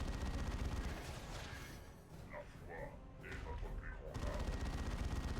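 Gunfire in the video game Dawn of War 2, dense and continuous bursts of weapons fire filling the mix, easing briefly midway as game voices speak, then surging loud again.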